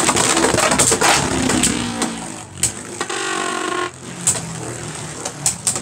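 Beyblade tops spin and clash inside a stadium from a Cross Collision battle set: a loud, busy rattle of scraping and sharp knocks that fades toward a thinner whirr, with several clicks near the end.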